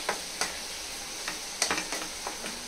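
Dried fish and onions frying in a pan, a soft sizzle broken by scattered stirring clicks and scrapes of a utensil, close and fairly quiet, with no voices.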